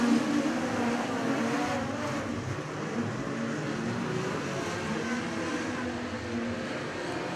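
USAC midget race cars circle Jefferson County Speedway in a continuous, fairly distant engine roar that swells and fades slightly as the cars pass, with no talk heard.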